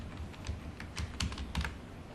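Light, quick clicks of typing on a computer keyboard, up close and fairly quiet, come in an irregular run of keystrokes over a soft background hiss, with no speech.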